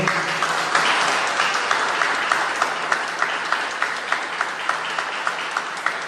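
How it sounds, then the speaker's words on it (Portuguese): A church congregation applauds during a Wednesday family worship service, steady dense clapping that holds at a constant loud level for the whole stretch with no voices over it. "Vamos aplaudir o Senhor."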